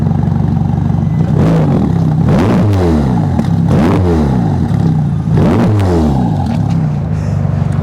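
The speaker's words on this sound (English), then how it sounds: "Rev it a bit, Manoj." A Ferrari Roma's 3.9-litre engine, fitted with a particulate filter, idles and then snaps through three sharp revs that rise and fall quickly, loud and close.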